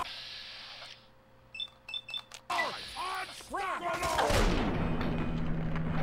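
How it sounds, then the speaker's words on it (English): Frag grenades go off in the post-apocalyptic shooter Fallout 3 after short electronic beeps, bursting loud and booming. Deep rumbling blasts roll over one another and build into a sustained crash of explosions. "Just keep throwing grenades."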